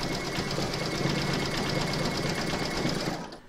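An embroidery machine stitches a zigzag round on an in-the-hoop heart banner with a fast, even mechanical whir. It runs alone and close, then stops at the end.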